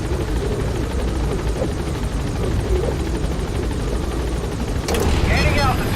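Pequot helicopter from Metal Gear Solid V hovering at a landing zone, its rotor a steady dense roar throughout, with a brief sharp burst near the end.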